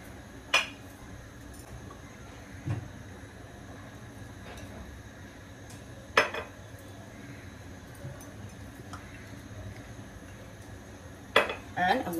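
Metal clanks and clinks of a pressure cooker lid being fitted and pressed shut, several sharp knocks spaced out over a quiet kitchen background.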